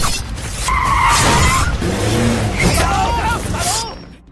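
Car tires skid and squeal loudly as a car speeds off after trying to ram a gang member, the screech wavering through several bursts and then cutting off, with some voices mixed underneath.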